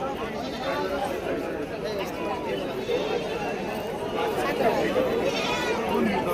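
Goats bleating amid a busy crowd at a market in Shirur, Maharashtra, with people talking and bargaining over a constant outdoor murmur.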